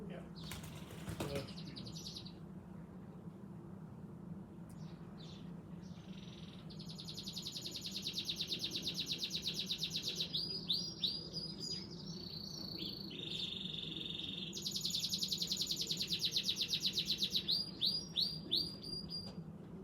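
Racing pigeons arriving home at the end of a national race, with bursts of rapid wingbeats flapping close by, repeated several times over a quiet, humming background.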